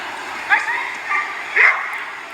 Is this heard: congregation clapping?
no